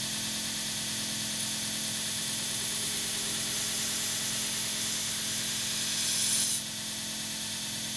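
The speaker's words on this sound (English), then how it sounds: "I go back to the grinder and refine the blade a little bit more, getting it closer to the final shape I want" Belt grinder refining a twist Damascus bowie knife blade, a steady, loud broadband hiss and hum that runs unbroken, swelling briefly near the end before settling back.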